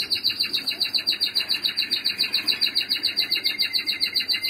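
Many small cage birds, newly bred by a breeder, chirp and trill continuously in breeding cages, a dense steady chorus of high rapid calls close by with no talking.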